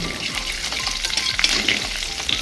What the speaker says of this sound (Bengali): শুকনো লঙ্কা একটা তেজপাতা এই ঠান্ডা তেলেই দিয়ে দিলাম